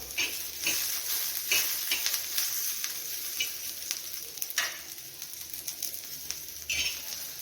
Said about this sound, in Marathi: यामध्ये आलं आणि लसूणचे तुकडे टाकायचे आहेत हे भाजून घेऊया